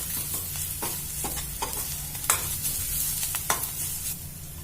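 Ginger garlic paste sizzles steadily in hot oil with onions for a baby potato curry, with a continuous frying hiss broken by several sharp scrapes and clinks of a spoon stirring the pan, close and fairly loud.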